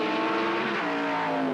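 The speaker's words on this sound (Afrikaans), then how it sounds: "dan is dit die groote brute krag van daardie V8 Chevy motor" A V8 Chevy-powered Wesbank Modifieds race car at Kyalami in 1989, its engine roaring loud and steady at high revs with a slight pitch drop as it pulls past.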